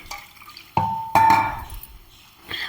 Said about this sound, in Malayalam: ഇനി നമുക്ക് ഈ വാളംപുളി ഒന്ന് പിഴിഞ്ഞെടുക്കണം